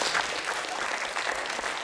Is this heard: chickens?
no